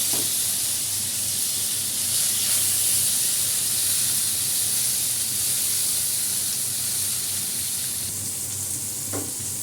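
Tomato and green chilli sizzle steadily in hot oil with a cumin and bay leaf tempering, a continuous close, loud frying hiss with faint stirring scrapes and no talk.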